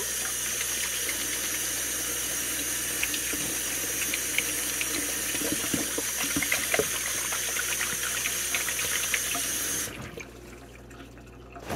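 A tap runs warm or hot water in a steady, splashing stream for about ten seconds, close and fairly loud, then shuts off abruptly, leaving near silence.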